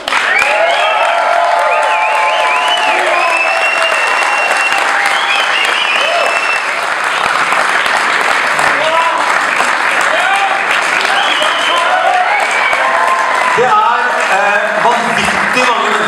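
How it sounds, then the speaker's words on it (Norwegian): Loud, sustained applause from a large audience at a Game of Thrones launch event in Oslo, steady clapping filling the whole stretch with a few cheers mixed in. "Gi en applaus."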